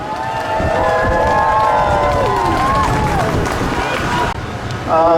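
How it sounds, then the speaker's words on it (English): Audience at a community rally breaks into sustained applause and cheering, a dense, loud wash of clapping and crowd noise that holds steady for several seconds, with voices mixed in. "please join me in giving Epstein a warm and enthusiastic round of applause"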